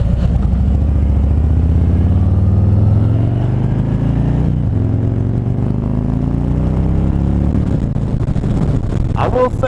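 Harley-Davidson Street Glide motorcycle engine droning steadily while riding, a low rumble with a slow rising pitch sweep, loud and close throughout with wind noise.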